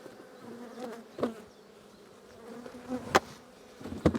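Honey bees buzz around an opened hive during an early spring inspection, a steady close drone with individual bees zipping past the microphone, no voices.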